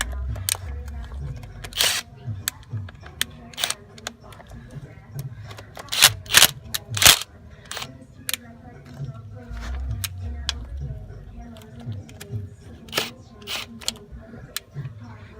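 A ratchet wrench loosening bolts, heard as bursts of sharp, close clicking with short pauses between turns and a busier cluster of clicks near the middle.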